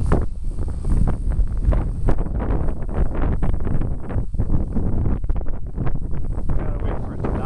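Strong wind batters the microphone outdoors, producing loud, continuous rumbling gusts that fluctuate without pause for the whole stretch.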